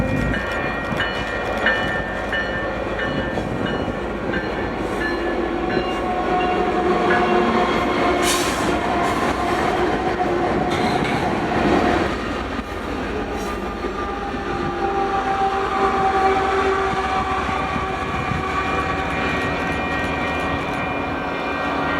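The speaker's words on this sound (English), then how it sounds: "OWSJ would come out of nowhere and roll on by with an SD70AH leading" Freight train led by an SD70AH locomotive with a CSX Gevo at the rear rolling by in Utah, a loud continuous rumble and rattle of wagons that swells in the middle, with no voices.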